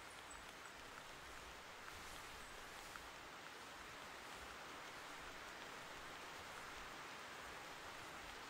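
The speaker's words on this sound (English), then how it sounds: "And we get some rain." Steady rain falls across a hunting landscape in theHunter Classic, a continuous soft hiss and patter with no pauses and no voices over it.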